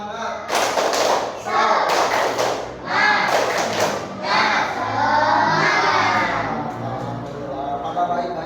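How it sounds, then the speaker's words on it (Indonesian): A class of schoolchildren performs the rhythmic 'tepuk semangat' spirit clap in a classroom: loud bursts of group clapping and thumping alternate with children's shouted chanting over several seconds. "Tepuk semangat dulu lah, ayo."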